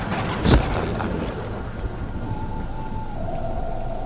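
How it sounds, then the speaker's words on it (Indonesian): Heavy rain pours steadily, with wind, during a graveside burial. A sharp, loud thunder crack hits early, then the downpour hisses on alone with a faint tonal hum underneath. "Terjadi hujan yang sangat lebat dan disusul kilatan petir yang menggelegar disertai angin."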